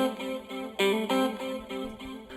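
Electric guitar solo embellishment run through delay and reverb, a string of bright sustained notes with a spacious, washy tail, moderately loud and alone.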